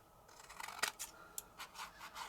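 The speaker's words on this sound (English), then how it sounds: "and then I'm just going to cut the corners" Scissors snip the corners of patterned vellum paper, a few quiet, crisp cuts with short rustles of the sheet in between, close and faint.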